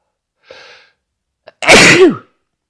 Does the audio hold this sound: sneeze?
yes